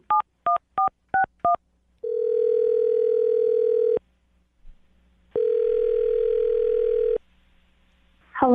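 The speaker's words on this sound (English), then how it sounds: "I'm going to dial the phone number right now," Five quick telephone keypad beeps, followed by two long, steady phone tones separated by a short pause, then a voice starting at the very end.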